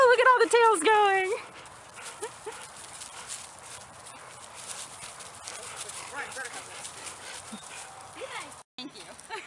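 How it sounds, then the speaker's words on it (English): Several dogs greet people at a puppy reunion, with excited yips and whines loud at first, then fading into scattered whimpers and shuffling under indoor chatter. "Dogs."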